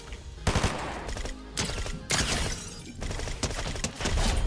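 Rapid automatic gunfire from a gun in the video game Fortnite, coming in repeated loud bursts of quick shots with brief gaps between them.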